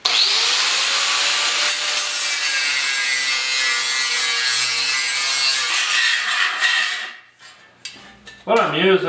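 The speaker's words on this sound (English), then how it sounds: "fine tune this is just a flapper disc here. Makes for some easy work." Flap disc grinding the front post body panel of a 1956 Mercury during rust repair, a loud continuous abrasive rasp that runs for several seconds, then breaks off into shorter scrapes and handling noises.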